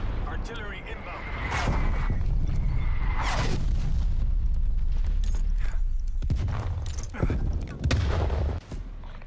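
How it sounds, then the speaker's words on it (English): Artillery strikes in the shooter game Call of Duty: Black Ops Cold War land as heavy booms and bursts of gunfire, loud and layered over a rumbling battlefield, with a voice talking through it. "Artillery inbound."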